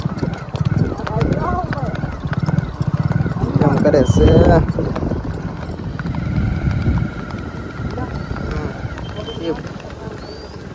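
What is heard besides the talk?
horse hooves clip-clopping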